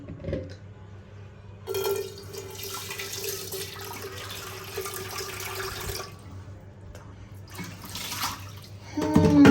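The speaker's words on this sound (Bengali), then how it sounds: "নতুন ফ্রাই প্যানটা আমি আজকে ব্যবহার করব, তার জন্য হচ্ছে আমি এটাকে ভালো করে ধুয়ে নেব আগে" A new frying pan rinsed under a running kitchen tap, a steady rush of water lasting several seconds, then stopping, followed by a shorter splashing burst near the end.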